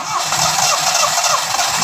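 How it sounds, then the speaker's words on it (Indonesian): A Toyota Starlet car engine, freshly serviced with an oil change, cranks and catches in a workshop, giving a loud, close, rough churning that pulses unevenly. "nyalakan mesin."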